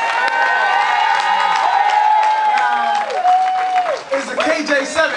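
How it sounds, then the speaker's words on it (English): Crowd at an NAACP gathering for Trayvon Martin and Kendrick Johnson applauding and cheering for parents, loud clapping mixed with whoops and raised voices, with a sustained shouted call running over the noise. "Give these parents another round of applause."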